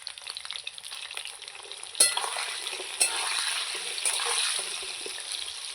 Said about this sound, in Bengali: এবার একটু নেড়ে চেড়ে আমি লাল লাল করে আলুগুলো ভেজে নেব